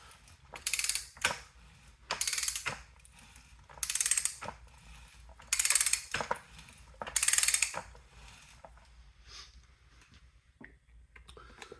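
A Ridgid 65-R ratchet threader cuts threads on pipe in a shop, with five evenly spaced bursts of clicking ratchet strokes separated by short pauses, close and clear.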